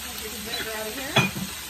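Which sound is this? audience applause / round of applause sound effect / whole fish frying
whole fish frying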